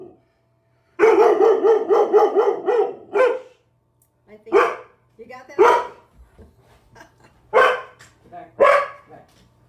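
A dog barks in a fast burst of repeated loud, close barks, then lets out several more single barks spaced a second or so apart, with someone talking briefly in between.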